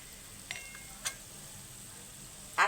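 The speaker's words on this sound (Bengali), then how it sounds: "এই যে দেখুন কি সুন্দর করে ভাজা হচ্ছে" Chhana bora, fried cottage-cheese dumplings, frying gently over a low flame, giving a faint steady sizzle with a few soft clinks of a stirring utensil and a louder scrape near the end.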